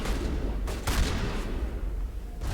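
Gunfire in the video game Mass Effect: Legendary Edition, a few sharp, loud shots close together near the start and another at the end, over a steady low rumble and without speech.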